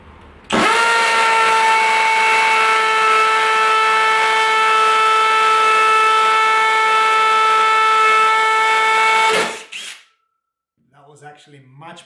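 A diamond-tipped drill bit spins up and whines at a steady high pitch for about nine seconds while drilling a countertop, then winds down; brief talk follows.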